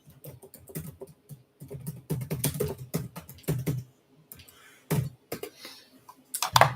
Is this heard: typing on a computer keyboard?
yes